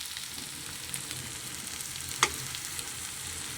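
Banana flower with prawns and ground garam masala fries in a pan with a low continuous sizzle, a brief sharp clink of a spoon against the pan partway through, nothing spoken.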